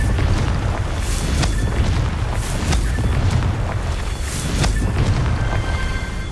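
A Confringo blasting curse from Hogwarts Legacy, heard as a run of loud, booming blasts and sharp bursts in quick succession over a dense rumbling bed, with brief crackling flares throughout.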